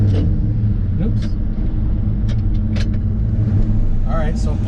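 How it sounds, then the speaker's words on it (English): A 1970 Ford F100 4x4 pickup with a four-speed manual, driving on a street; a loud, steady engine drone fills the clip, with brief mechanical clicks and squeaks above it. "we're going to take this truck down a quick spin down Cassopolis Street"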